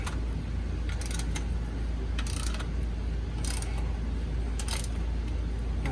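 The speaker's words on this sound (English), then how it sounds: "you can take an 18mm socket to break it loose" Ratchet wrench with an 18mm socket loosening a bolt while fitting a torque arm insert on a Fiat 500: several short bursts of rapid clicking ratchet turns over a constant loud background hum, no speech.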